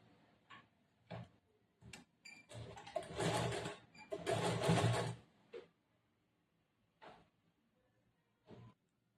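Short bursts of a sewing machine stitching blouse lining, a few quick ticks then two longer runs of several seconds, with quiet gaps and faint clicks afterward.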